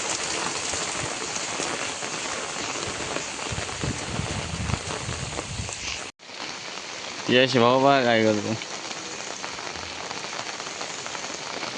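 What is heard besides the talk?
first monsoon rain falling in a Konkan village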